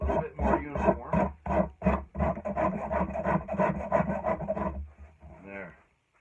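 Rhythmic rasping strokes smooth the split wooden palm swell on a peavey handle, close and steady with short pauses between passes, trailing off at the end.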